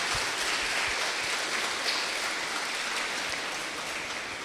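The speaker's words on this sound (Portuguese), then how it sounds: "Uma salva de palmas para eles." During a Sunday Mass homily, a church congregation gives a round of applause, a soft, even wash of many hands clapping at a distance that sounds almost like steady rain and fades slightly at the end.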